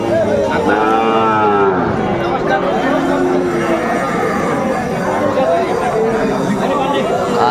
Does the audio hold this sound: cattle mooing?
yes